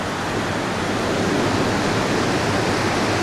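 Steady, roaring ocean surf on a beach at Swansea, Tasmania, a dense broadband wash that holds loud and unbroken throughout with no distinct wave breaks and no voices.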